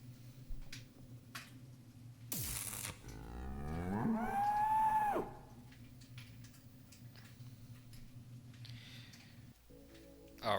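A bull in the video game Narrenschiff gives a single loud, drawn-out moo lasting about a second, preceded by a sharp burst and followed by quiet ticking game sounds.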